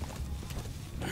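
A sheep bleats in the video game Metal Gear Solid V: The Phantom Pain, a short, fairly faint animal cry heard over game background sound.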